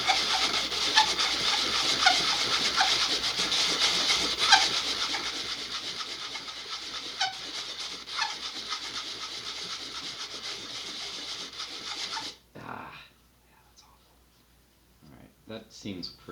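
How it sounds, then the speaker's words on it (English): Sandpaper rubbing steadily against a part from an Estes SpaceShipOne model rocket kit, a dense continuous scratching for about twelve seconds that then breaks off into quiet with a few faint handling noises. "I think I'm just going to sand it and hope for the best"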